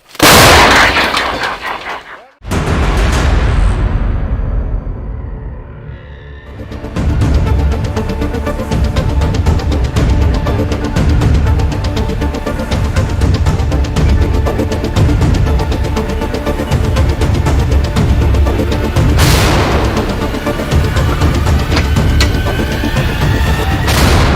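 A loud heavy boom from artillery fire bursts out at the start, followed by a long rumbling roar and echoing din, with another blast later.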